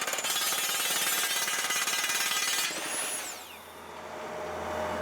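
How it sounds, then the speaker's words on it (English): Loud, continuous hammering of a 4-meter-long rock drill with a rapid rattling pulse, then it cuts out briefly as a high whine sweeps down when the drill steel breaks, and the drilling resumes. "just a 4-meter-long drill that's chewing through replacement bits"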